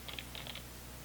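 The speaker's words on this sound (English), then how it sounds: "And we've got autofocus sound this way." A Nikon D3200 DSLR lens autofocus motor whirs in two brief, faint bursts, close by in a quiet indoor room with no talking.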